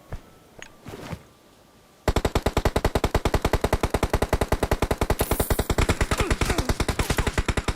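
Sustained machine gun fire in PUBG Mobile, a long steady rapid stream of loud, evenly spaced shots that begins abruptly after a brief quieter stretch with a few faint knocks, continuing without pause to the end.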